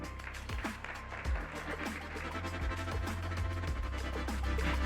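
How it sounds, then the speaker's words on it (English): Audience applause at a startup pitch competition for greentech founders, steady crowd clapping that swells toward the end over a loud low rumble of stage music or room noise. "Big applause."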